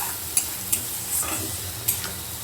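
Onion paste being stirred and fried in a pan: a soft, continuous sizzle with several sharp scrapes and clinks of a spoon against the metal, fairly quiet and close, with no talking.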